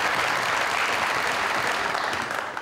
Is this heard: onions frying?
no